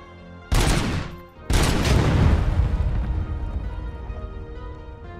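Pistol gunfire in the video game RoboCop: Rogue City, two loud, close shots about a second apart, each followed by a long booming echo that fades slowly, with no talk.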